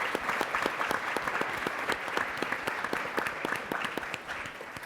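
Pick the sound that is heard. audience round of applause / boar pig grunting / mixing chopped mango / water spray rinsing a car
audience round of applause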